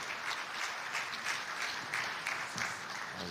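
Audience applause at an event on metro safety and legal issues, a dense, even patter of many hands that swells slightly in waves and carries on steadily from start to finish.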